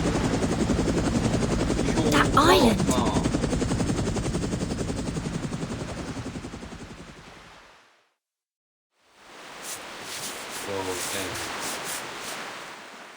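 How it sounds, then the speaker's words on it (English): A helicopter drones with a dense, steady rotor roar that fades to silence, then returns at a similar level, while a voice speaks briefly over it. "That's a Foundation helicopter."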